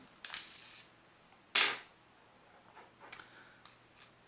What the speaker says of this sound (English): For those of you that are switching out batteries, this is an SR626SW. And we will pop that battery out.